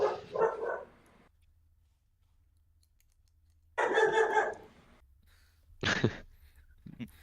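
A dog barks loudly in a few separate bursts, each set apart by quiet pauses, with a faint low hum running underneath and no talk.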